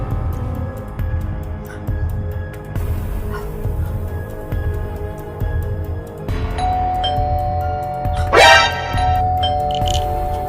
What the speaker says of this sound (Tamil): யாருமே இல்லாத காலிங் பெல் எப்படிம்மா அடிக்கும்?